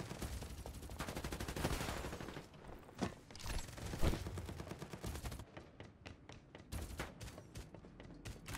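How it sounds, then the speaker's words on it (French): Dense gunfire crackles from all directions in the battle royale video game Farlight 84, with rapid bursts and single shots overlapping loudly throughout, some near and some farther off. "ça tire de partout"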